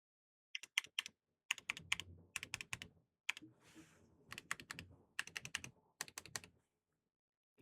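Thick keys on an Aula 60HE budget 60% gaming keyboard typed in short rapid bursts of sharp clacks, separated by brief pauses, with one softer rustling stretch in the middle; close and clear, no voices.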